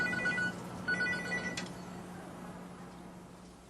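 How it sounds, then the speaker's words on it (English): A cell phone rings in short electronic bursts, two or three rings, faint over a low steady hum, while encased in a Tyco Sapphire fire suppression test. "the cell phone isn't drowned at all. It's actually ringing."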